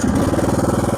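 Lawn mower engine catching and running in a yard, a close, loud, rapid putter with an even pulsing rhythm.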